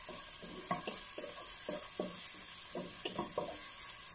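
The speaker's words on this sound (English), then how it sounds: "I put first the onion, the shredded onion." Shredded onion frying in a pan before vermicelli noodles are cooked gives a soft, steady sizzle with irregular stirring scrapes and clicks. It is fairly quiet and close, and nobody speaks over it.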